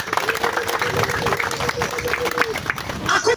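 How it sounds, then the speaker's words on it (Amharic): A church congregation claps in praise, a dense, continuous burst of applause filling the room, with voices mixed in. "አጨብጭቡ ለጌታ ክብር"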